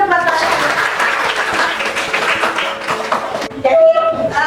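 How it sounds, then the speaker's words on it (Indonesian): Students in a classroom clap together for a few seconds, a close, brisk patter of hands that thins out as a voice comes in at the end. "Oke, tepuk tangan dulu buat Clarissa."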